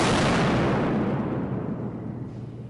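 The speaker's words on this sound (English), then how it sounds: "They started with army-issue stun grenade. Not loud enough, so let's hear what twice that decibel level does." An army-issue stun grenade set off at twice the standard decibel level, heard as a massive blast already underway whose roaring noise slowly decays and thins out over a few seconds.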